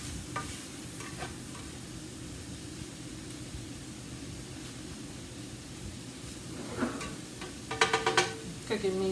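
Tofu sizzles softly in grapeseed oil in a pan, a faint steady fry with occasional scraping stirs and clinks, louder utensil knocks near the end.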